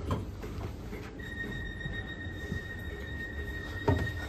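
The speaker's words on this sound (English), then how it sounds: "This train is for Liverpool Central." A Merseyrail-style train at Bromborough Rake railway station, rumbling steadily with a sustained high whine and squealing tones from the wheels and motors, close and loud throughout, with no speech.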